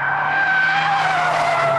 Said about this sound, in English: when you really push this Vauxhall, there is a little bit too much understeer turning in, which will inevitably snap into oversteer on the way out